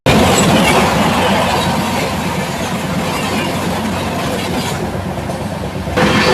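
The Vikrama Simhapuri Amaravathi Super Fast Express runs at speed near Nellore, a loud continuous rumble with rhythmic wheel clatter heard from on board.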